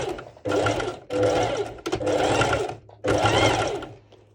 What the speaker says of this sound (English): So I'm going to sew on the left side and I will be sewing over these stitches before.